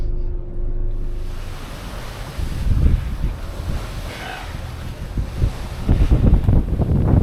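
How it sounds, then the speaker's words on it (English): Cold wind at sea gusts hard across the microphone aboard a Nordhavn boat on the Atlantic, loud rumbling buffets over a wash of waves, strengthening toward the end, no talk. "It's a cold wind."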